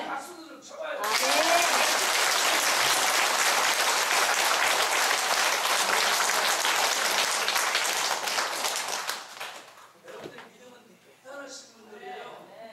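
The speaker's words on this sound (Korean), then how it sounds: "박수도 좀 쳐봐요." An audience at a Catholic charismatic renewal lecture bursts into sustained, dense applause that holds for about eight seconds, then fades into scattered claps as a voice resumes speaking.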